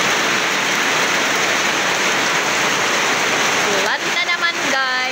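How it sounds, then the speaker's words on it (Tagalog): Heavy rain pours down steadily on a rural road near farm fields, a dense roaring wash of water that fills the whole clip and thins briefly near the end, where a few faint voices break through. "Lumakas yung ulan, buti na lang naisilong yung anong motor."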